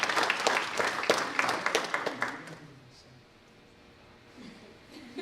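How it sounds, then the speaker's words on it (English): An awards ceremony audience applauds a scholarship recipient with a burst of fairly close clapping that fades out after a few seconds into quiet room tone. "Please give a round of applause again for our scholarship recipient and our scholarship namesake, Joanne Georgiana and Ebony White."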